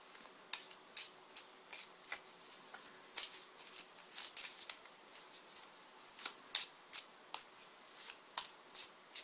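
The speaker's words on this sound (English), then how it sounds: "let's pick clarifying cards for these" A deck of tarot cards is shuffled by hand in quick, crisp riffles and taps, repeated irregularly, close and quiet, with no speech.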